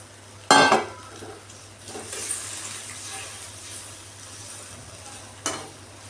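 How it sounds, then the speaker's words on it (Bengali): Fish slipping into a mustard-oil kasundi gravy in a pan, with a brief loud splash and sizzle near the start and a smaller burst near the end over a steady low hum. "এবার আমি মাছটা দিয়ে দেবো তেল কাশুন্দির ঝোলের মধ্যে দিয়ে দিলাম মাছটা"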